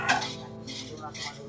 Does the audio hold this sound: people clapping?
no